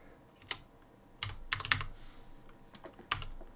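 Keys on a computer keyboard clack in a few quick clusters and single taps, close and fairly crisp over a low room hum, with no voices.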